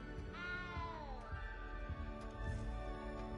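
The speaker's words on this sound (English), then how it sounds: "You don't need to be frightened, little cat." A small cat gives a couple of rising, plaintive meows close by, heard alone over a soft ambient background.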